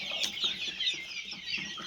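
Chickens on a small local poultry farm cluck and chirp in a dense, steady chorus, with repeated soft calls overlapping at close range and no voices.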